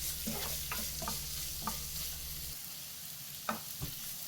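Sliced onions with a pinch of salt sauté in a pan, a steady close sizzle with scattered stirring scrapes and taps, the frying hiss dropping away partway through while utensil knocks continue.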